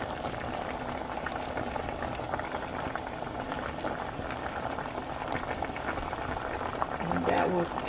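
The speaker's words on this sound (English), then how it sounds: "we're just gonna let this boil down" A pot of sweet potatoes and sugar at a steady boil gives a continuous bubbling, close and moderate, with a voice talking over it.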